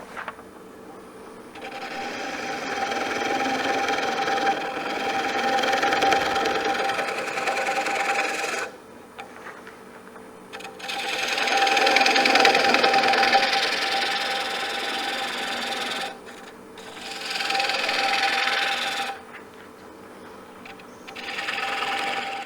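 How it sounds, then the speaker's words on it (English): A woodturning lathe tool undercuts the base of a Bradford pear bowl, giving a steady scraping, rasping hum in several long passes separated by short pauses, close and fairly loud, with no talking. "You want to undercut it on the base so that it sits on the table without rocking."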